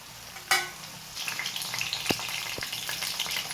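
Ivy gourd and green chillies sizzle in a hot pan, a sharp clatter as they go in followed by steady frying hiss with a few stirring scrapes, close and with no talk.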